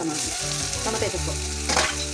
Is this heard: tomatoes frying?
yes